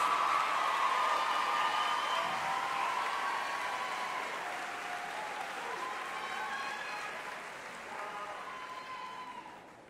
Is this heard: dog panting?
no